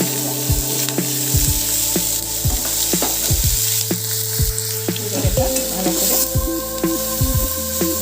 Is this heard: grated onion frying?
yes